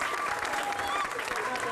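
Studio audience on a Cameroonian TV show breaks into steady, dense applause close by, a voice talking over the clapping throughout.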